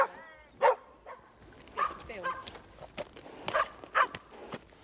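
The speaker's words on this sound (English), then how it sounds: "Notice how he is not fazed by the dogs being walked and barking around him." Several short dog barks and yips ring out at intervals, fairly close, outdoors on a common, with voices talking quietly in the background.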